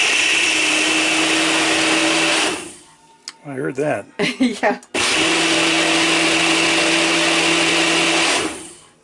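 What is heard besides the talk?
Ninja blender mixing drink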